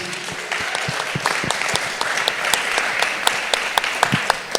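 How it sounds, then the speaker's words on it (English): An audience at a public event with a commissioner applauds, a dense, steady burst of clapping from many hands, fairly close and sustained with no speech. "Give her a round of applause"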